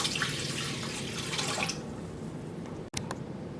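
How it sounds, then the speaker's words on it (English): Four ounces of water are poured into the pan of a baking machine to start a dough: a steady close trickling rush lasts almost two seconds, then stops, leaving quiet with a single sharp click. "So first we need to add 4 ounces of water."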